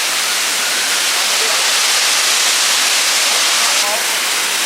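Khlong Lan waterfall roars as a dense, steady rush of falling water, loud and close, filling the whole clip.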